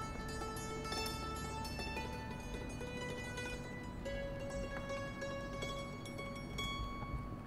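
Quiet, sparkling plucked notes from a Spitfire Labs dulcimer pitched up an octave, ringing as short bright tones over a soft song backing, faint and steady with no talking.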